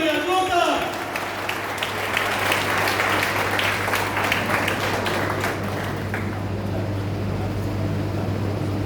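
Audience applause at a stage gathering, a sustained wash of clapping that fades gradually, with a steady low hum underneath and a voice at the very start.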